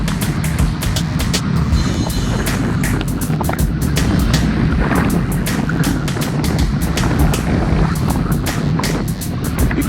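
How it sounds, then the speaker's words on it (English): Steady, loud wind roar buffeting the microphone during a hot, humid group road cycling ride near Honea, Texas, with broadband rushing noise filling the whole stretch and faint ticks scattered through it. "You can hear the wind."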